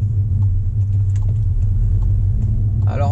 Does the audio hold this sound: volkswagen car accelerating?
yes